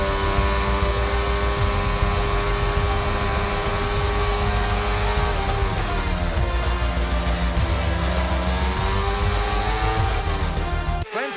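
A Formula 1 car in the F1 22 video game, driving back to the pits at Silverstone after a race with damage: a steady, continuous engine drone with a shifting pitch, loud and close throughout, cutting off abruptly at the very end.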